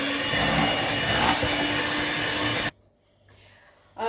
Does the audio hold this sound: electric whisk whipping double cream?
yes